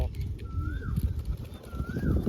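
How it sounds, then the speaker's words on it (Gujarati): A red pigeon coos nearby, giving two soft, low, rolling coos against a quiet background. "લાલ કબૂતર આવ્યું છે મિત્રો"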